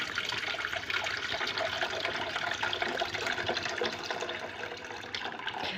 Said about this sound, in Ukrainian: Воду з помідорів, яких вона стояла 10 хвилиночок, я зливаю в кастрюльку.